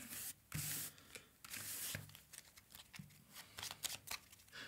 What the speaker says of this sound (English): Have to shuffle the cards over here for this guy.